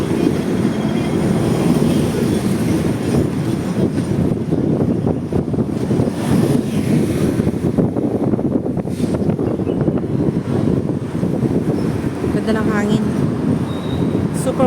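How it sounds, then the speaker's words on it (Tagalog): Strong wind buffets the microphone during a tram ride in Hong Kong, heard as a loud, constant low rumble and roar with indistinct voices underneath. "Super windy today."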